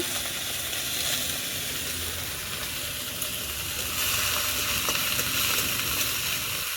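Drumstick flowers fry in a pan, probably over a clay stove at home, making a loud, steady, close-up sizzle and hiss with occasional soft stirring scrapes.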